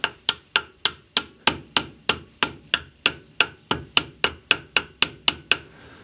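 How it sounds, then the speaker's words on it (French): A hammer taps a part into a motor in a brisk, even series of about seventeen sharp metallic knocks, each ringing briefly before the next. The blows are close, clear and alone. "Je vais donner un petit coup de marteau quand même"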